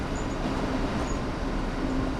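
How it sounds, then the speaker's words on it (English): Locomotive in Train Sim World rolling to a gentle stop under a light automatic brake application: a steady low rumble of wheels on rail, with faint brake squeals coming and going, no talk. "To bring the locomotive to a gentle stop, move the automatic brake into the minimum application position"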